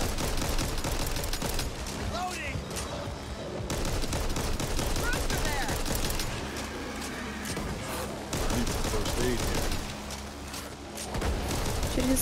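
Rapid gunfire rattles almost continuously while players shoot enemies in the co-op zombie shooter Back 4 Blood, loud bursts and sustained automatic fire with game effects, players talking over it.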